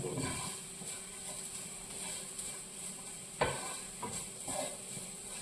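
Clams being stirred and mixed in a frying pan for a Kerala-style clam fry, with steady sizzling and hiss under soft scraping strokes and an occasional sharper knock of the utensil against the pan.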